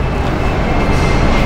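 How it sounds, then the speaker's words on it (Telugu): A Delhi metro train on the Yellow Line pulls into the station with a loud, steady rumble of wheels and motors close by. "మెట్రో వచ్చింది."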